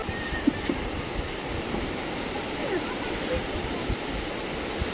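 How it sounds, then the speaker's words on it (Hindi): The Godavari River flows beneath a bridge, making a steady broadband rush of moving water that continues without pause. A faint murmur of distant activity sits underneath. "तो ये गोदावरी नदी बह रही है नीचे, उस पर ये पुल बना हुआ है"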